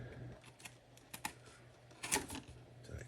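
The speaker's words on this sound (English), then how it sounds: "get my blade and get to cutting the tape up here" A blade slices through packing tape on a doll box, heard as quiet scratchy scrapes and small clicks, with one louder tearing rasp midway.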